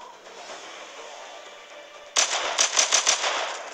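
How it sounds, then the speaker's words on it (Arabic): Rapid gunfire from a multi-shot pistol in the Zombie Invasion video game breaks in after a low ambient hum, about six sharp cracks in quick succession, loud and close. "كما تشاهدون هذا المسدس يطلق رصاصات يعني متعددة، ليس مثل المسدس الأول يطلق فقط رصاصة"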